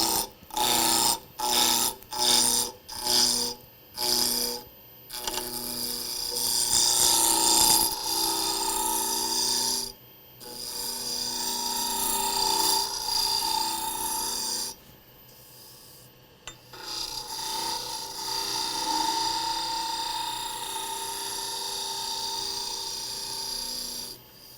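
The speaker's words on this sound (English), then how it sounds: "I'll start with a spindle roughing gouge and just round it out" Spindle roughing gouge cutting a 1-inch square wood blank held in lathe chuck jaws, rounding it out: an opening run of rhythmic rasping bursts as the corners hit the tool, then longer continuous scraping cuts broken by brief pauses, close and fairly loud.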